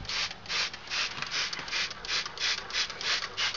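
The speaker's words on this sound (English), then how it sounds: "So what I can use instead, should be easier, spray bottle." A hand spray bottle misting water over a microworm culture, about a dozen short evenly spaced hissing squirts close by, each a quick airy burst in a steady rhythm.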